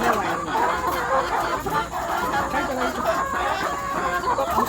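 A flock of poultry on a small farm clucks and murmurs continuously while being fed freshly cut grass, a busy crowded chorus of overlapping calls at steady loudness.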